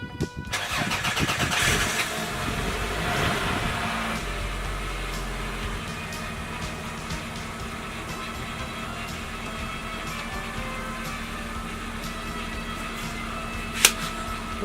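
A Toyota Celica engine cranks and catches, then settles into a steady, close idle that runs on with a brief click near the end.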